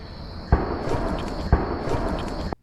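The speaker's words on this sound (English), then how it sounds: "As you can hear, there are gunshots in the background." Two sharp bangs about a second apart over steady noisy background, distant gunshots heard in a forest.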